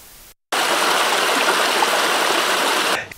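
Water flows steadily at the Ikogosi warm springs in Ekiti, Nigeria, a loud, close, even rushing that starts abruptly after a brief quiet and stops just as sharply near the end.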